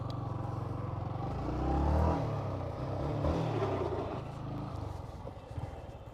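Motorcycle engine revving with rising and falling throttle as the bike lands a jump and the clutch is released, loud and close throughout with a surge around the middle and clattering mechanical noise.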